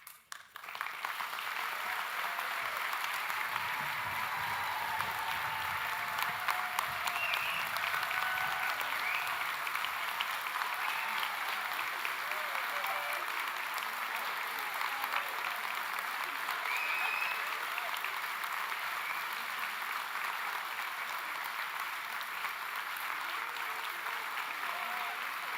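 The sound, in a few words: audience applause at graduation ceremony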